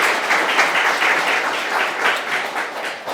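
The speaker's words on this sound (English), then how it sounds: "Many applauses for everybody who read" Audience applause after an open mic poetry reading, a steady, dense wash of many hands clapping, sustained and fairly close for several seconds.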